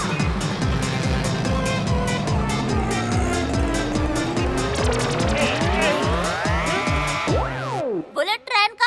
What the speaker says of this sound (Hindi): बुलेट ऑटो तो जरूर आ गया है हमारे देश में